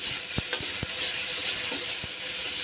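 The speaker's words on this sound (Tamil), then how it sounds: "ஸோ நம்ம குழம்பு தேவையான அளவு உப்பை இதில் போட்டு வதக்கிக்கலாம்." Onions cooking with salt sauté in a pan for moong dal kuzhambu. A continuous close sizzle carries a few soft spatula clicks over the short stretch.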